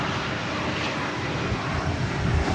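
An American Airlines Airbus A321 arriving from Palm Springs at Dallas Fort Worth airport gives a steady, broad jet engine rumble, moderately distant and continuous over a couple of seconds.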